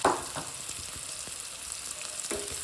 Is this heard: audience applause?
no